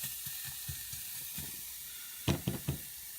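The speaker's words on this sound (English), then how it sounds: "It's just gently sauteing now, very gentle." Vegetables sauteing gently in a pan on low heat for tomato soup give a soft, steady sizzle, broken by a few light knocks of a spoon or pan, the loudest cluster near the end.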